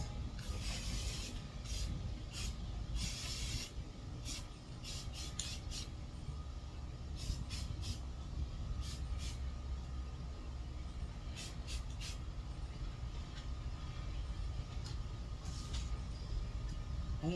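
Aerosol spray paint hissing onto a gold decor part to turn it black, heard as a steady close hiss with short bursts, sitting over a constant low rumble of background noise.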